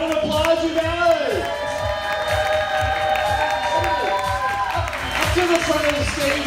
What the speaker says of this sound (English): Let's give our grand prize winners a round of applause, you guys.